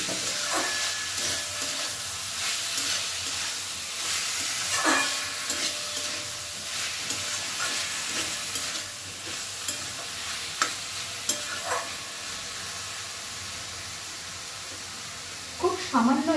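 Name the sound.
stirring drained mashed banana flower into spiced rice in pan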